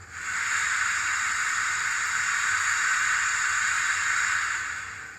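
A continuous, steady hiss of steam from the cylinder drain cocks of an Oxford Rail J26 model steam locomotive with DCC sound, broad and even throughout with no other sounds.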